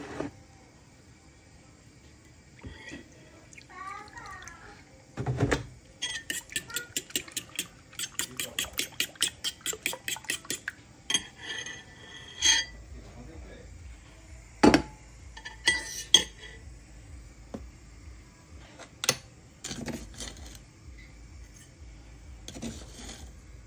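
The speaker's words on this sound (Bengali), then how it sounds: "এটা একটু ফেটে ফেটে দিচ্ছি ডিমটা" Two eggs are beaten with a fork in a bowl, giving quick rhythmic metallic clinks in a steady run, with a few separate clatters of dishes and utensils before and after. No voices.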